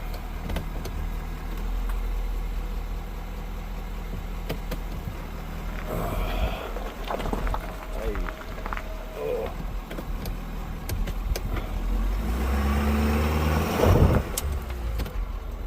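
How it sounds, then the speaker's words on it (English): A pickup truck on a forest dirt road in the Mogollon Rim area idles and rumbles while being shifted out of four-wheel drive, its low engine drone broken by scattered clunks and a louder surge near the end. "my truck didn't want to go out of four-wheel drive there for a second"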